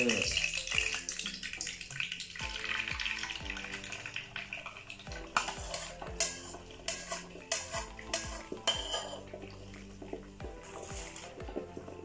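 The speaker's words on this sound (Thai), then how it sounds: "ทอดไข่เลย" Eggs fry with garlic in a pan for a Thai stir-fry of egg, cabbage and glass noodles, giving a steady close sizzle with repeated clinks and scrapes of a utensil against the pan.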